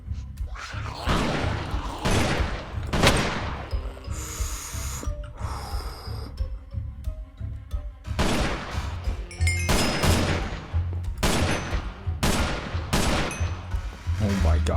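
Gunfire in a zombie survival video game, with repeated loud bursts and rapid volleys across the clip and a brief reload-like pause in the middle.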